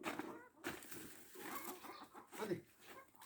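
Chickens cluck and chatter near at hand while grain is scattered for them on a farm, in short uneven bursts with a voice talking over them.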